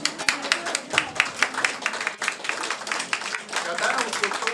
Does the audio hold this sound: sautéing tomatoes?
no